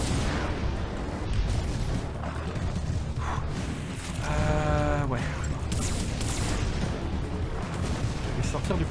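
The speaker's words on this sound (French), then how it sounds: "Du coup la mitraillette pour les petits comme ça je les élimine un à un." A mech's machine gun fires in the mech-building game M.A.S.S. Builder, a dense stream of rapid shots and booms against small enemies, with rumbling explosions and a voice talking over the constant din.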